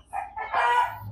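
A rooster crows once, close and clear, a short rising call with a few clucks from chickens around it, no talking.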